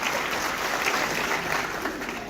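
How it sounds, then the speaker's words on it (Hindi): An audience at a political women's conference gathering applauds to welcome a women's forum leader, a loud, continuous wash of clapping that holds steady throughout without any break. "अर्पणा सक्सेना जी, जोरदार ताली बजा के इनका स्वागत करें"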